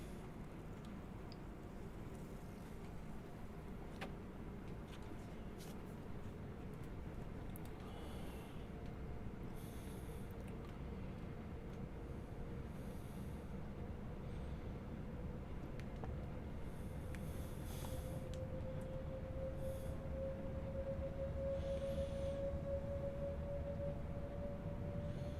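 A Class 390 Pendolino electric train runs on the West Coast Main Line south near Birmingham New Street in Train Simulator 2021, giving a steady low rumble with a slowly rising motor whine, continuous and without talk.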